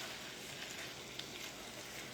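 Food frying in a pan while cooking Chinese dishes for dinner, a steady, even sizzle with a faint crackle throughout, fairly quiet and with no talking.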